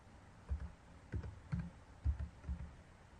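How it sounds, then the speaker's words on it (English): Faint, close computer keyboard typing: five short clusters of soft key taps spaced roughly half a second apart over quiet room tone, with no speech. "type in the property name,"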